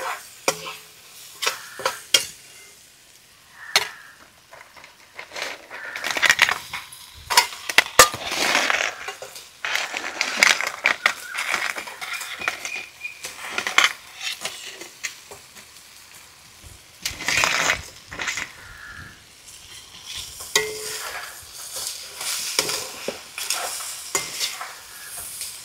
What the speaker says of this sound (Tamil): இப்போ வெங்காயம் தக்காளி எல்லாம் நல்லா மசிஞ்சு வந்துட்டு இப்போ நண்டை போட்டுவிடுவோம்.